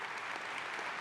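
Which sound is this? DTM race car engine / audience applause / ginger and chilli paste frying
audience applause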